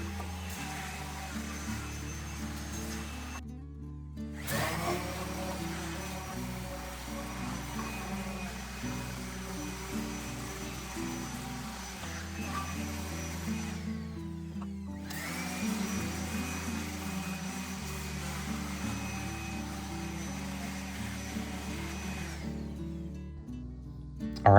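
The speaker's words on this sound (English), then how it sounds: "I'll then go over with the sander and sand each one of these." An electric sander works over small wooden fairy houses with a continuous whine, stopping briefly twice and then starting up again, close and steady.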